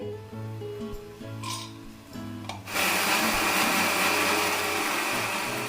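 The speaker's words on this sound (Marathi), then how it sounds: "मिक्सरच्या भांड्यात हे फुटाणं बारीक करून घेते" A mixer grinder starts up to grind roasted chickpeas into powder, a sudden loud whirring roar that holds steady after a few quiet clicks and handling sounds over a background hum.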